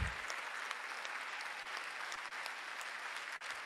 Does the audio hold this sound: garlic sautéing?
no